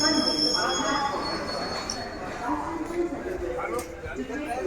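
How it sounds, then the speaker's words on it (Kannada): A train rolling steadily with continuous rumble, rail clatter and a faint high wheel squeal, heard from inside the carriage on a journey to the Kumbh Mela, close and constant for several seconds. "ಟ್ರೈನ್ ನಿಮಗೆ ತೋರಿಸ್ತೀನಿ ಯಾವ ಥರ ಇದೆ ಅಂತ"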